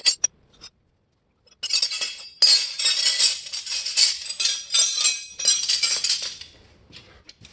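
Metal wrenches clink and rattle against each other in quick bright bursts during work to remove the motor from a mini buggy, with short pauses between handfuls of tools.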